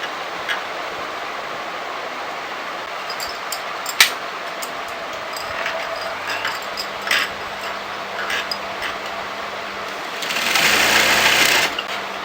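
Sewing machine stitching over an overlapped fabric flap on a kurti shawl collar, a steady whirring run with a few ticks, growing louder and busier near the end, with no voices.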